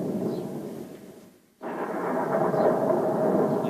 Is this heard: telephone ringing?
no